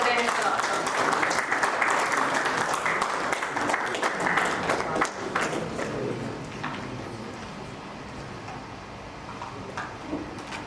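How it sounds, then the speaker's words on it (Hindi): Hearty applause from an audience greeting a guest at an award function and oath ceremony, a dense burst of clapping that thins out toward the end, with a voice speaking over it. "जोरदार तालियों से स्वागत करते हैं सर आपका।"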